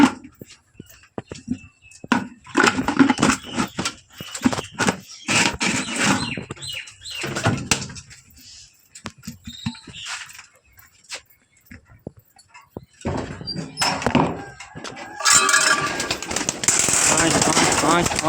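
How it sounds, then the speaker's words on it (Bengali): Pigeons let out of their coop, with soft coos and fluttering wing flaps amid handling noises, a dog whimpering and a person speaking nearby. "কারণ এখন পায়রাগুলো বের করে দেবো।"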